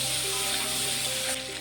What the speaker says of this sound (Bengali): আলুটাকে একটু ভেজে নেব।